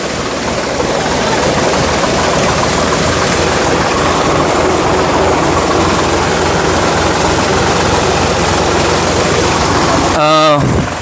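A tractor engine rumbles steadily while driving through waist-deep rain floodwater in a village, a loud continuous low drone mixed with rushing, splashing water, ending in a short sharp knock.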